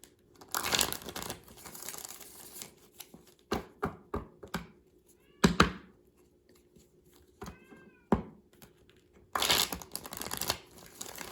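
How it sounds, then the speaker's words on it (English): A house cat meows at a back door, a few short, fairly close calls broken up by crinkling, tapping and rustling noises in a quiet room. "I don't know if you can hear my cat meowing at the back door"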